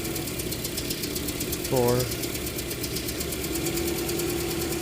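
A 2009 Toyota Matrix engine idles roughly with one cylinder's injector disabled, giving a steady, uneven mechanical hum and knocking; someone briefly speaks over it partway through.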